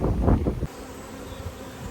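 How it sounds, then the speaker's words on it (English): A honeybee swarm in progress outdoors gives a steady, droning buzz, opening with a brief burst of low wind rumble before the hum settles in alone. "there's definitely a swarm"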